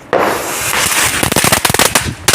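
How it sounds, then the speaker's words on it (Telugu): Diwali firecrackers burst close by in a loud, rapid volley of sharp cracks and pops, with a few last bangs after a brief lull. "అంత చక్కగా బాంబులు కాలుస్తుంది"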